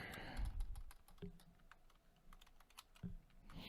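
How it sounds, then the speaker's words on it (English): Quick bursts of keystrokes on a computer keyboard, typing into a notepad, close and fairly quiet with short pauses between runs, no talking. "I don't know why I'm trying to type it onto a notepad on my computer"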